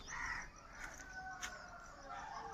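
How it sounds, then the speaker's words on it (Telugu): Rooster crowing in a cold village morning, a moderately faint call rising over quiet outdoor ambience, with a few short bird calls nearby. "మీకు వినిపిస్తున్నాయేమో కోడి కోతలు, కాకుల అరుపులు"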